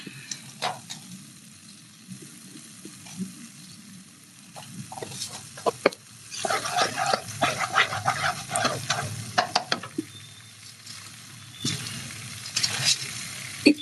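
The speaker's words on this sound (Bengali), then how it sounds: "তো ওই কারণে আমি আগে এটাকে পেঁয়াজ বাটা রসুন বাটার মতো দিয়ে একটু নেড়ে নেবো হালকা করে।" Chicken frying in a pan with onion and garlic paste, stirred now and then: a soft sizzle under bursts of scraping and stirring, growing busier and louder midway, with a few clinks and no talk.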